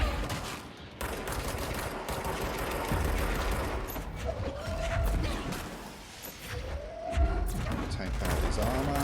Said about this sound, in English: Shoot him with lots and lots of magic bullets